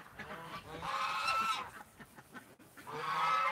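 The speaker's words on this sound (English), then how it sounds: "That one white goose." White goose honking inside a barn, two loud nasal honking bursts separated by a short pause, fairly close.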